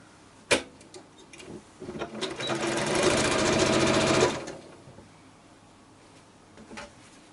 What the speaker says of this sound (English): I can start sewing again